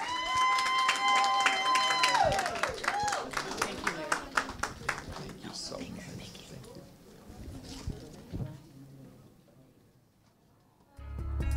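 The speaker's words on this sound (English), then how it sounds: "give them a big round of applause and welcome them to the front" A crowd at a music video release event claps and cheers loudly, the applause fading gradually over several seconds into quiet.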